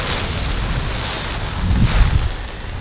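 Strong wind gusting outdoors, a steady broadband rush with a louder surge partway through, buffeting the microphone, no talk.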